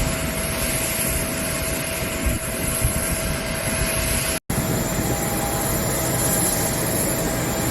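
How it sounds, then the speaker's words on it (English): An All Nippon Airways Boeing 777 at Osaka Itami Airport gives off a loud, steady jet roar that holds throughout, broken only by a brief dropout midway. "All Nippon Airways 777, manufactured by Boeing."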